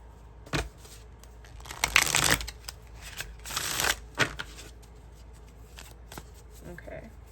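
A deck of tarot cards is shuffled in two loud, riffling bursts, with lighter card handling and flicks in between at close range, alongside a person speaking.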